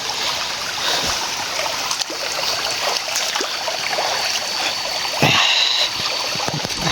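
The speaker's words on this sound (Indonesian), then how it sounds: "ini sungainya ada dua arah ya. Sungai kecil" A small river with streams running two ways through hillside forest flows steadily, a continuous broad rushing and trickling with occasional splashes, close and fairly loud throughout.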